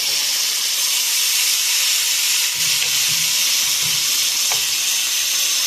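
Beef for a crispy beef sandwich browning in a hot pan, a loud steady sizzle and hiss of frying that runs throughout, with a few faint stirring knocks partway through.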